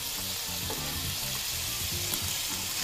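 Vegetables (broccoli, yellow squash, green zucchini and asparagus) hitting a hot pan, a loud continuous hiss and crackle of frying with faint stirring, close up and without talk.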